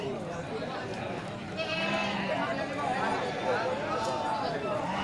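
Sheep or goat bleats sound repeatedly at a livestock market selling jumbo goats and sheep, mixed into a busy crowd din with people talking nearby throughout.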